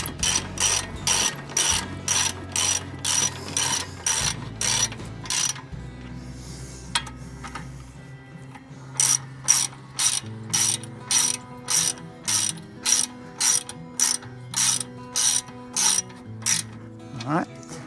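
A hand ratchet tightens rotor nuts on a Chevy Colorado ZR2 pickup, producing loud, close, evenly spaced rapid clicking strokes in two long runs with a short pause of handling noise between them.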